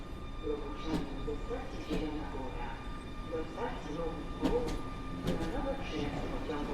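Kujawiak passenger train hauled by EU160-002 locomotive at Warszawa Zachodnia station in snow, giving a steady rolling rumble with repeated sharp clanks and squeals, fairly close, with faint voices in the background.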